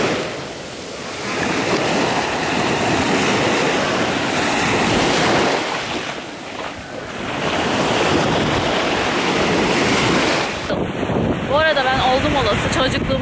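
Sea waves wash onto a hotel beach at sunset, a steady loud surf roar with rising and falling swells and gusty wind buffeting the microphone.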